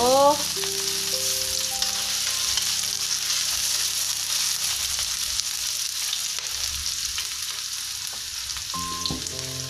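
Fried noodles (mie goreng) sizzle in a pan while being cooked for dinner, a steady loud crackling hiss throughout with occasional stirring and a few faint tonal sounds.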